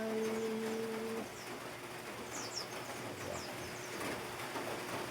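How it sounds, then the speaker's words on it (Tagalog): Steady rain patters on a house roof, a soft continuous hiss with faint bird chirps in the background and a brief low hum at the start. "Pumapatak ang ulan sa bubong ng bahay."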